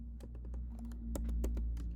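A folder name is typed on a Mac computer keyboard as a run of quick, crisp key clicks in an uneven rhythm, close and fairly quiet over a low steady hum.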